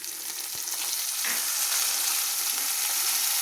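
Ginger and green chilli paste fry in hot oil, a bright, constant hiss with a few soft scrapes of a stirring spoon, close and steady without speech.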